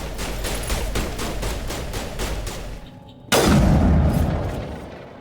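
Rapid bursts of sniper rifle and other gunfire in the Mass Effect video game, a steady volley of loud shots that dips briefly before a sudden heavy boom and sustained roar of weapon fire.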